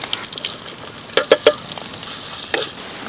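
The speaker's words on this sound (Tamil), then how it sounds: "வெங்காயம் நல்லா வதங்கி நல்லா கலர் மாற ஆரம்பிக்குதுங்க" Sliced big onions frying in a pan with fennel seeds, stone flower and cinnamon give a steady close sizzle, broken by three quick stirring scrapes midway and another near the end, with no voices.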